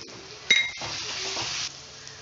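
Onions sizzle in a pan for poori potato masala as turmeric powder is stirred in. A sharp clink opens a spell of scraping stirring over steady frying hiss.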